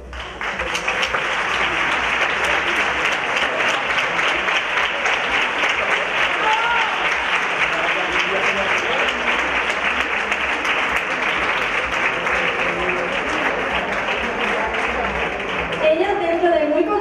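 A theatre audience at a beauty pageant final claps steadily and loudly throughout, a dense, sustained wash of applause from a large crowd with some voices mixed in.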